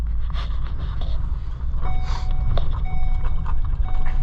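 A Ford Super Duty pickup truck's warning chime dings repeatedly in short evenly spaced tones over a low idling engine rumble, close and fairly clear.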